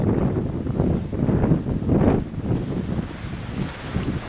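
A small X3 wind turbine spins fast in the wind with six- and four-blade props on a 2.5-inch bracket, its steady whooshing blended with heavy gusting wind noise across the microphone throughout.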